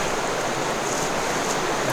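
Butte Creek in California flows steadily nearby at dusk, a constant broadband rush of stream water with no pauses or voices.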